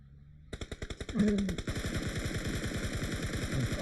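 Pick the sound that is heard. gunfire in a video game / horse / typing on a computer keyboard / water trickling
gunfire in a video game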